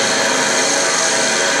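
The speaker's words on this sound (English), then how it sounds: "I start to drill and I see the drill go in the center first" Drill boring into tile, a loud continuous grinding whine held steady and close, with no talk over it.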